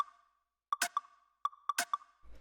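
Two small percussion hits in a house track trade off in a quick clipped pattern, bright ticks alternating with short tonal plops over a steady sustained tone, fairly quiet and clean.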